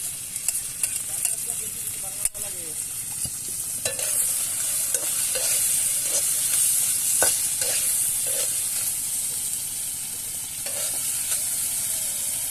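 Ginger garlic paste fries in a pan with a steady, soft sizzle, broken by repeated scraping and clinking stirring strokes.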